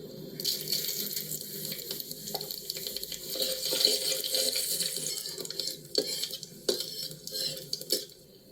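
Bay leaves, whole dried red chillies and cumin hiss in mustard oil at an outdoor picnic cookout, a steady broad sizzle punctuated by scraping and clattering stirring strokes near the end.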